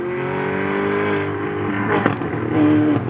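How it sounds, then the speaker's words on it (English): A Ferrari supercar engine runs at the Curborough sprint course, a loud sustained drone that rises in pitch as the car accelerates past, with sharp transient pops near the end. "That Ferrari does sound nice though"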